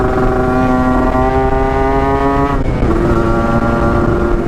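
A two-stroke motorcycle engine on a test ride gives a loud, close, buzzy drone at a steady pitch that dips briefly as the throttle shifts, then holds again, with no talking.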